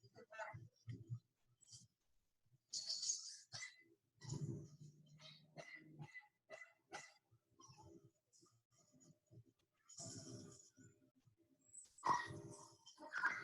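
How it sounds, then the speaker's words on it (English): A puppy with separation anxiety gives faint, high-pitched, staccato barks and yips in scattered bursts, with a few whimpers between them, recorded at low volume indoors. "doing the barking related to separation anxiety"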